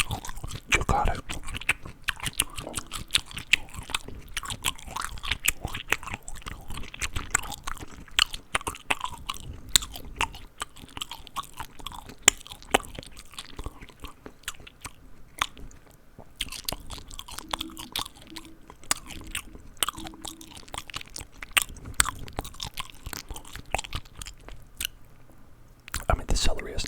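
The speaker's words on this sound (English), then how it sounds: "the celery has nothing on it. I'm eating it." Close, crunchy chewing of plain raw celery in a whispered ASMR setting: repeated crisp bites and wet mastication in an irregular rhythm, with occasional soft speech mixed in.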